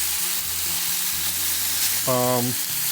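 Garlic and onion frying in a pan of seitan with some juice added, a steady close sizzle throughout with brief clattering as the food is stirred.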